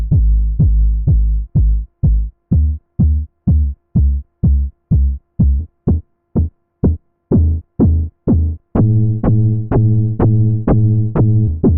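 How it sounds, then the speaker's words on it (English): A steady four-on-the-floor drum machine kick, evenly spaced thumps; midway the pattern thickens into a fuller, punchier hit with more tonal body. "So let's do a simple 4 on the floor beats."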